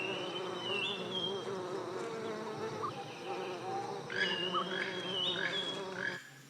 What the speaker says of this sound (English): bees, feared by everyone, can eat to their heart's content.